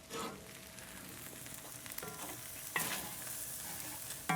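Paella rice simmering in a pan while being stirred, soft bubbling under intermittent scrapes and clinks of a utensil, fairly quiet and close.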